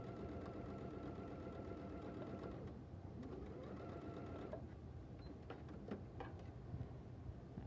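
A sewing machine stitches quilt pieces at a short stitch length, a faint steady whirring hum with rapid needle rhythm that continues throughout with slight changes in pace.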